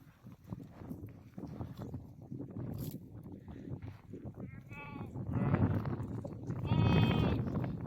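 Sheep bleat repeatedly, some loud and close, over a steady background of shuffling and movement from the flock.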